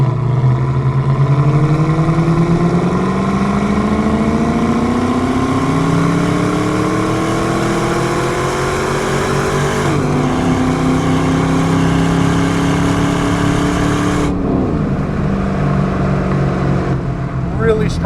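A 2002 Pontiac Firehawk with an LS1 V8 and automatic transmission accelerates hard, its engine note climbing steadily through two upshifts, loud and close from inside the car with a speaker's voice faintly underneath.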